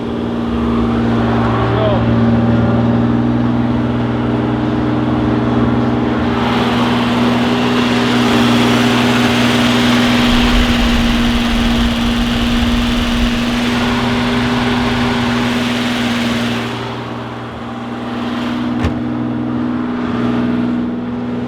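A BMW E28 M5 engine runs steadily after a fuel pump fix, a constant close droning hum that swells slightly midway and dips near the end, with no clear talk over it.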